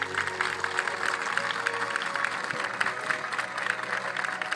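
Spectators at a wildlife park animal show break into applause, a full, steady roar of many hands clapping across the stands, continuous and fairly loud.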